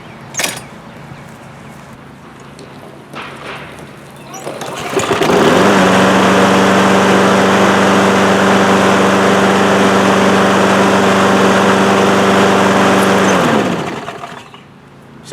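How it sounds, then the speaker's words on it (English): A broken lawn mower engine, rolled to start it, catches after a few seconds of quieter rattling and then runs loud and steady up close at a constant buzzing pitch for about eight seconds before cutting off. "see if we can start the lawnmower that way"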